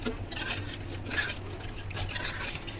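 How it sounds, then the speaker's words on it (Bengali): Milk being stirred slowly into a baked pasta sauce, with a steady soft scraping and swishing of a utensil against a pot, continuous and close throughout. "আস্তে আস্তে করে আমি মিশিয়ে নিচ্ছি যেন দলা পেকে না যায়।"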